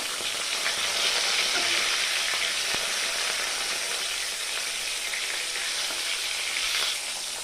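Fish fries in hot oil under a lid, a loud, continuous close-up sizzle with a dense crackling hiss that holds steady throughout, with no talk.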